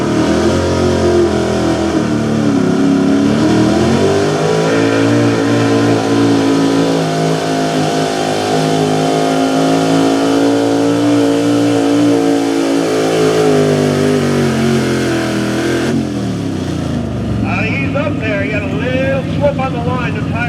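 A 1970 Chevy K20 4x4 truck's small-block engine revs hard and steadily at a truck pull, a loud sustained roar that shifts pitch as it pulls, then drops off near the end while an announcer talks over it.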